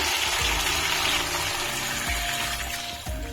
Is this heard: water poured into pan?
yes